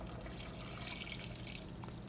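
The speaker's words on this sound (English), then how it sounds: "we're going to add 4 cups of milk of your choice" Milk, 2% in this case, pours in a steady splashing stream into a pot for hot butterscotch punch, close and continuous, with no talking.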